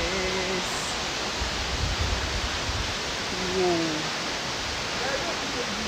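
Wli Waterfall in Ghana's Volta Region roars as a steady broadband rush of water, loud and continuous throughout, with brief faint voices in the background.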